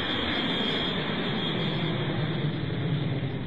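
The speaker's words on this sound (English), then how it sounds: "the platform rises to the surface just in time for them to see Brunhilde's plane take off" Steady, continuous roar of a plane taking off as an audio-drama effect, a dense wideband engine rush holding at constant loudness throughout with no voices.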